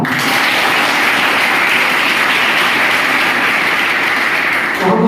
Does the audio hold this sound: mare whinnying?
no